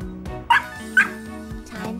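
A toy puppy gives two short, bright yips about half a second apart, close and clear, over a low electronic hum and music-like background tones.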